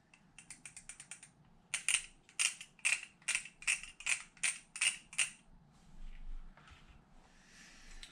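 Small mechanical clicks and ratcheting taps as a motor goes back into a modified Traxxas Slash LCG 4x4 RC truck, first a rapid run of light ticks, then about nine louder evenly spaced clicks, all close and with no talk.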